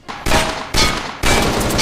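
Three loud, close bursts of gunfire ring out at a gun range in VRChat, each a sharp blast followed by a brief sustained rattle, with short gaps between them.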